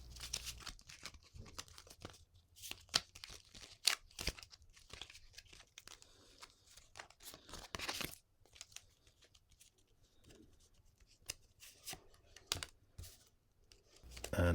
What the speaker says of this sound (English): I will shuffle these cards